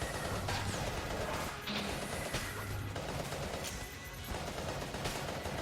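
The Hegemony Carbine fires in the video game Enter the Gungeon, a dense, continuous stream of rapid automatic shots with crashing impacts. The gunfire is steady and loud through the whole stretch, and no voice breaks in.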